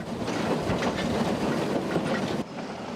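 A train rumbles along the tracks nearby, with a steady rolling roar and rhythmic clatter of wheels, ending slightly quieter.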